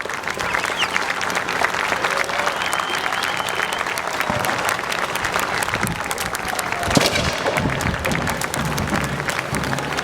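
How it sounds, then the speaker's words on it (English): Steady, sustained applause from a crowd at a small-town quasquicentennial parade in Alvord, honoring military service members, with dense outdoor clapping filling the whole stretch and a brief louder burst near the end. "Feel free to give them a round of applause"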